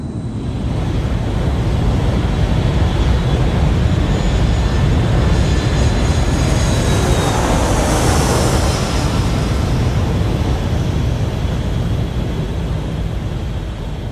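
An airplane drones steadily in flight ahead of landing, a loud broadband roar with wind rush heard from inside or nearby, holding constant throughout with a faint rising whine partway.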